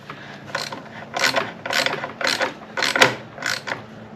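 Ratchet clicks in rhythmic bursts, about seven strokes, while springs are tightened down on an Opel engine, close and distinct.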